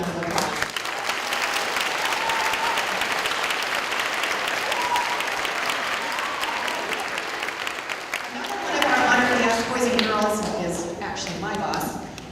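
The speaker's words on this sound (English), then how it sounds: "So if you would welcome her with a round of applause." An audience at an educator award event applauds a welcomed guest, sustained clapping filling the room, then a voice speaks over fading claps near the end.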